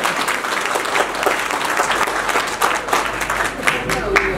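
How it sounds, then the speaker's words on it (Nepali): Audience applause fills a comedy show, dense steady clapping from a crowd that runs throughout, with some voices mixed in. "अब लाज नमानिकन सबैजनाले हात माझिकन ताली बजाउँछ"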